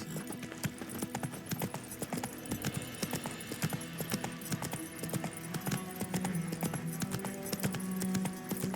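Roach the horse galloping in The Witcher 3, a rapid, continuous drumming of hooves at moderate volume with steady rhythm throughout, accompanied by faint creaking tack.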